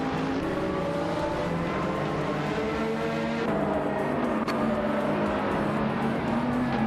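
A 2009 Pagani Zonda R and other race cars drone loudly in a racing video game at New Jersey Motorsports Park, with engine pitches rising and shifting continuously as the cars run together.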